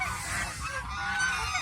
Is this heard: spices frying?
no